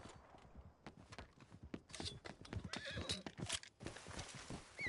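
Horse neighing and hooves clip-clopping in the video game Red Dead Redemption, with rapid close hoofbeats and whinnies at moderate loudness, no voices.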